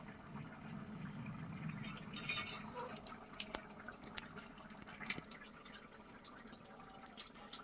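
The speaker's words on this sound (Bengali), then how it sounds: "মাছগুলো দেবার পরে একটু ফুটিয়ে নিচ্ছি" Fish curry simmering in a pot on the stove, heard as a faint, steady bubbling hiss with scattered soft clicks and clinks of utensils or the pot, quiet and close, with no voices.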